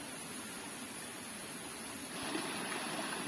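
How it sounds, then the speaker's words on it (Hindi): Stream of water flowing through a forest, a steady broadband rush that swells slightly louder toward the end, continuous with no voices. "देखो जंगल का बीच में पानी आ रहा है"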